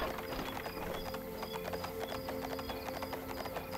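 Steady clip-clopping of horse hooves during a ride in the Ostwind video game, a quick, even rhythm of hoofbeats over a soft tonal backdrop of game music, moderately quiet and without speech.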